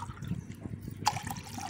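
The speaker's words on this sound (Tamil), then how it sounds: "அந்த ரெண்டு ஐஸுக்கு உண்டான தண்ணி வச்சு நம்ம வந்து நல்லா வேக வைக்கலாம்." Water poured into a cooking pot for boiling sago, a short close trickle and splash with a bright clink partway through.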